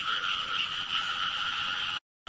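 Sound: frogs croaking at night

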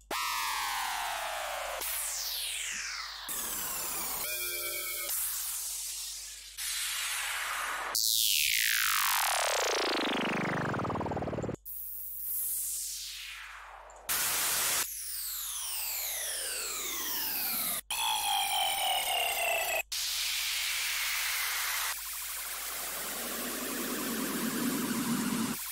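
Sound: downlifter sound effect from old Vengeance sample pack

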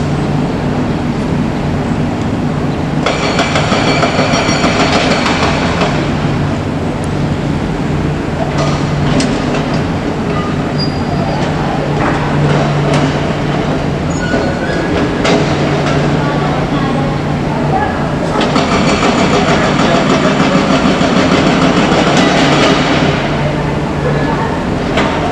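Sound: high-speed train running

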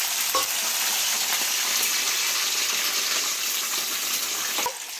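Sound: green chilies frying in hot oil with chana dal

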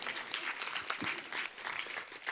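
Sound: audience round of applause

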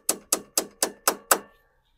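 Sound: socket tapping as the pump seal seats, pitch changing

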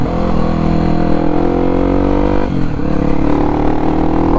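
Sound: XRE 299cc motorcycle revving with two-step launch limiter

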